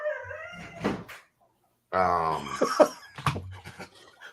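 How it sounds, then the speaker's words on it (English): A dog whimpers and howls in drawn-out, wavering cries broken by a brief silence, close and fairly loud, with little else around it. "What just happened to that dog?"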